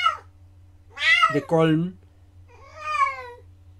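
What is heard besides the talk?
cat meowing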